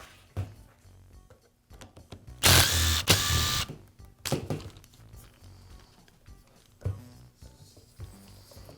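A rear motor cover is removed from a Makita nibbler during repair, giving close plastic clicks, thunks and scraping handling sounds in separate bursts, with one louder rattling stretch in the middle.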